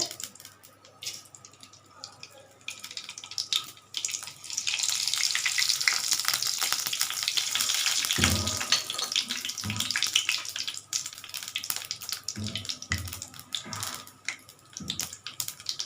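Mustard seeds and urad dal splutter in hot oil, a dense crackling hiss that builds and holds loud for several seconds, broken by a few low thumps, with no talking.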